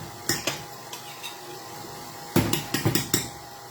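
Thimbleberry bread batter is mixed in a bowl, a few scattered utensil knocks and then a quick run of clattering strokes, close and clear with no talk.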